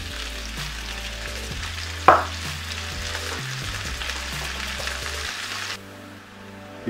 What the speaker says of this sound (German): Die Zwiebeln scharf anbraten,